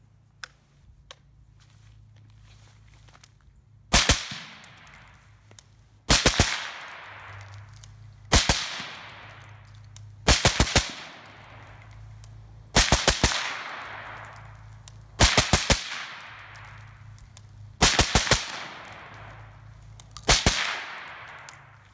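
A rifle fitted with a BattleComp BC 51.0 compensator fires eight sharp, loud single shots, spaced roughly two to three seconds apart. Each crack rings out and decays into the surroundings, with a low hum between the shots and no talking.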